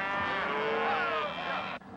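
Cattle moo during a calf branding roundup in a high country pen, a single long, loud, close bellow lasting nearly two seconds before cutting off.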